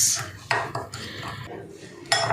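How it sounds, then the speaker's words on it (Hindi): Spice paste with soy sauce for a fish fry being stirred in a bowl, with repeated clinks and scrapes of a utensil against the dish, fairly close and without speech. "इस सारे के सारे जो मसाले हैं ना, इसको हम अच्छे से कर लेंगे मिक्स"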